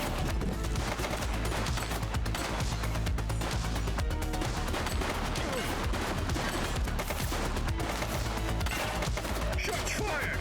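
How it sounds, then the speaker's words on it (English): Dense gunfire crackles through a loud, busy game mix in The Precinct, continuous and chaotic for several seconds with no voices. "Shots fired!"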